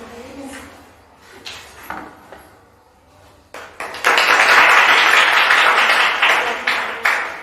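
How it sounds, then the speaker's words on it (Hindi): An audience at a Teachers' Day award ceremony bursts into loud, sustained applause after a quieter stretch of scattered taps and handling sounds, the clapping dense and close for several seconds before tapering. "आप सब लोग तालियां बजाते रहिए"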